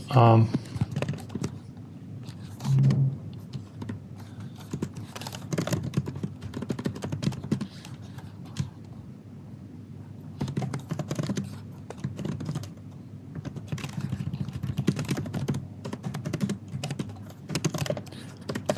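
Fingers clatter on a computer keyboard in quick, irregular bursts of key presses while someone talks over the typing.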